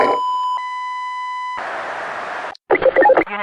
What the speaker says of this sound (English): to the deafening tone of a killed Combine soldier.